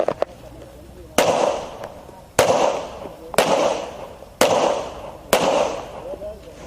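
Gunshots at a combat-style shooting range: five sharp, loud reports spaced roughly a second apart, each followed by a short echoing decay, heard close over a faint background.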